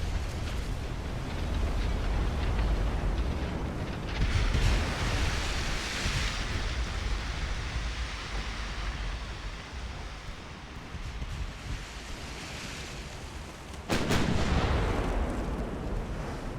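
A torpedo strike on a ship in the naval video game Ultimate Admiral: Dreadnoughts, heard as a long, heavy rumbling roar of explosions and spray, with a fresh loud blast near the end.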